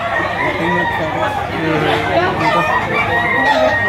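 An 11-month-old rooster crows at a busy market with sellers and buyers, the call rising over steady crowd chatter and nearby voices.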